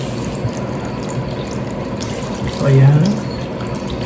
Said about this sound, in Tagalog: Tapos, buhos natin lahat ng tubig dito.